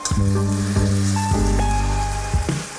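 Washed fresh green beans go into a pan of sautéed onions and set off a loud, crackling sizzle, with scraping and stirring against the pan throughout.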